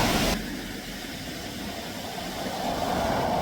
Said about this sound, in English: the sounds of passing cars is just part of the experience